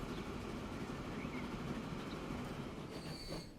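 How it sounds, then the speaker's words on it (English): A train rolls along the tracks in the Transport Fever 2 game, a steady loud rumble of wheels on rails with faint squealing, running continuously throughout. "Here goes the other train."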